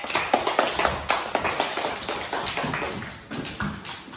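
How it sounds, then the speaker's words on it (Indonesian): A classroom group claps together in a scattered burst of applause, moderately close, lasting a few seconds before tapering off. "Berikan tepuk tangan untuk kelompok anggrek."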